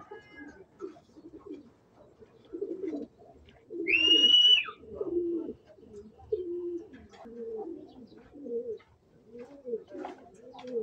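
Racing pigeons cooing in low, repeated throaty phrases, close by, with a brief higher call partway through; no talking.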